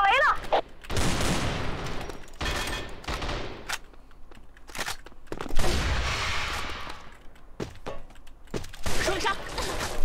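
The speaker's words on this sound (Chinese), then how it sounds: "我扔手雷了" Grenade blasts and rapid gunfire in a shooter video game come in loud, dense bursts with short gaps, close and heavy, with voices talking underneath at times.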